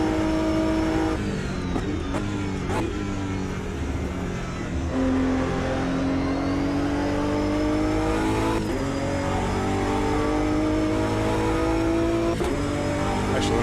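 A race car engine in the Automobilista 2 sim racing game drones steadily through a lap, rising and falling in pitch with upshifts and downshifts and brief lifts, loud and continuous with no talk.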